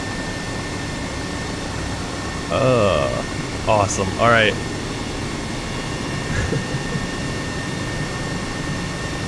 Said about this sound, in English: Well, that's my incredible helicopter landing.